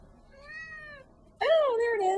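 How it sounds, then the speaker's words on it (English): A cat meows twice, first a softer drawn-out meow, then after a short pause a louder, wavering meow, close to the microphone with no speech over it. "Say hello, Oscar. Hello, Oscar."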